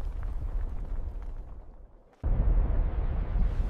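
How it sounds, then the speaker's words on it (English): Violent volcanic eruption blast at Campi Flegrei, a deep rumbling roar that dips briefly and then surges back in a loud, sustained low-frequency boom. "A violent blast tears the sky apart, shockwaves rippling across the land."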